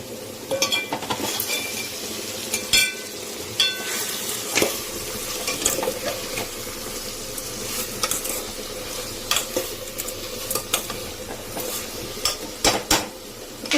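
Spices and ginger-garlic paste stirred into frying Telangana-style papu charu, a spoon scraping a pot over a steady sizzle, with repeated sharp metallic clinks throughout and no talking.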